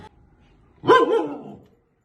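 A single Akita bark, loud and close, a short harmonic yelp followed by a brief trailing tail, then quiet.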